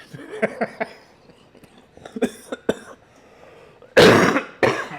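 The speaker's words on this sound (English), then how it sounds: "See, I'm still coughing." Several sharp coughs and throat clearings from one nearby person, scattered at first, then two loud harsh bursts near the end.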